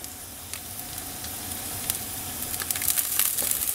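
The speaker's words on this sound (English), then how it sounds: "we've got our minced ginger here, 2 tablespoons of minced ginger. Let's get that in." Minced ginger hits a hot pan for a chicken stir fry, giving a steady close sizzle and hiss that grows slightly louder and crackles more toward the end, with no talking.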